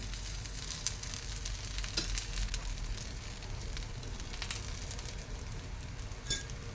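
Tapioca adai batter frying in oil in a pan, a soft continuous sizzle and crackle with a single faint clink near the end.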